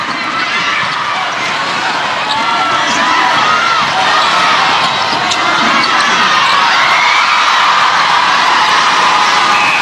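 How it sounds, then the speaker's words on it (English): A packed arena crowd at the Malaysia versus Singapore netball final roars and cheers continuously, a loud, dense wash of voices with whoops rising over the din. "the crowd is going wild"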